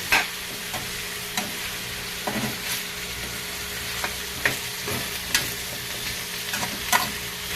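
Chopped squash stir-fried in a pan for ginisang kalabasa, a steady sizzle broken by repeated scraping and clacking of the spatula against the pan at an uneven rhythm, close up and without talk.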